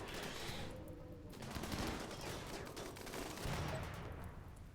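Sustained gunfire from a RimWorld battle against raiders, a dense rattling barrage of rapid shots that runs steadily through the whole stretch at a moderate level with no talk over it.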